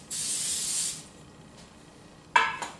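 A short hissing burst from an aerosol can of cooking spray sprays for about a second, followed by quiet and then a brief rubbing or clattering noise near the end.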